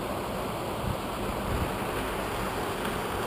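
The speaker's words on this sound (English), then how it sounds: "Little creek right here, little waterfall." A small creek and little waterfall at Hermit Creek in the Grand Canyon pour in a steady, broad rushing wash, close and constant with no breaks or talking.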